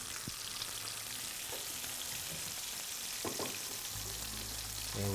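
Rolled, filled food fries and crisps in a pan with a steady, soft sizzling hiss, broken by a few faint clinks and scrapes, with no talking.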